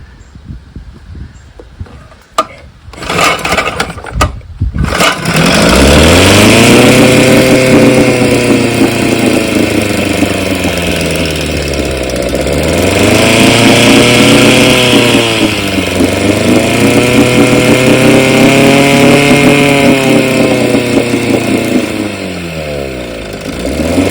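A 1964 Evinrude 5.5 HP outboard engine starts after a few sputters and runs steadily with a buzzing two-stroke drone that rises and dips in speed, loud and close, alone with no talking.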